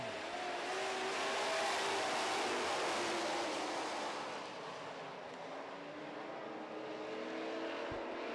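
Super trucks racing on a track at the green flag, a dense roar of engines accelerating together, loud and sustained before easing slightly as the pack moves off.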